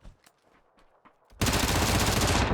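Automatic gunfire in the video game PUBG starts suddenly and then continues as a loud, dense, sustained burst. Before it, a few faint, scattered clicks and quiet sounds come and go.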